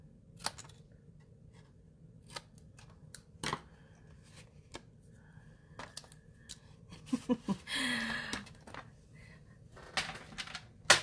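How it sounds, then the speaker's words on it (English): Card paper being cut on a paper trimmer while making a double gate fold card: scattered soft clicks and taps, then a short scraping slide of the blade, with quiet handling noises around it and no talk. "we're just going to trim that off again"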